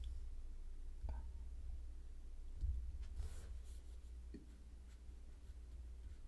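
An eraser rubbing out pencil writing on paper during a pre-algebra lesson, a few faint, brief scrubbing strokes over a quiet room hum, with a soft breath in between.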